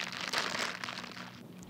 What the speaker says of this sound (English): we make that sound by crumpling cellophane in front of a microphone